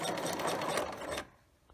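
A sewing machine fitted with a twin needle stitches a flatlock seam on boxer shorts in one quick close whirring run, then stops abruptly into near silence.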